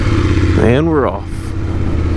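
BMW 850 GS motorcycle pulling away, a close, steady low engine rumble with one short rising rev that quickly falls back.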